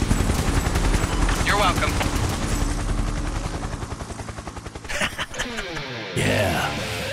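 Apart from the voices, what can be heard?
Gatling gunfire from helicopter airstrike in video game Overkill 3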